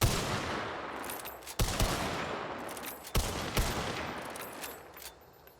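Mako gun firing in the video game Hunt: Showdown, a fast chain of close, loud shots, in three bursts separated by short pauses, with ringing reverberation between them.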